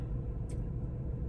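Traffic passing on a road makes a steady, low rumble of several vehicles that continues throughout.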